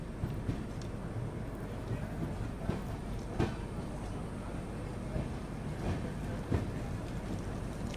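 The Kashi Vishwanath Express rolls on past Tilhar station, heard from inside a 3AC coach as a constant loud rumble with occasional wheel clicks and knocks on the rails.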